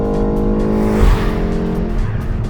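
A BMW M135 pulls hard at full power with boost engaged, its engine note loud and steady throughout with a brief surge midway, close up from inside the car.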